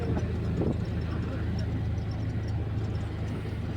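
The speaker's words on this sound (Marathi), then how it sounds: "आपण रिक्षा भेटली आम्हाला" An auto rickshaw ride on a cold day near the Grishneshwar temple, its small engine droning and rumbling steadily and loud throughout with road noise, no speech over it.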